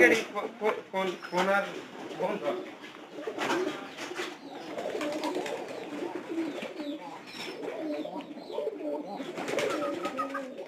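Pigeons coo repeatedly close by, soft throaty calls overlapping in a continuous murmur.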